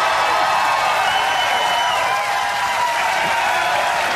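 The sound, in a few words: studio audience cheering and applauding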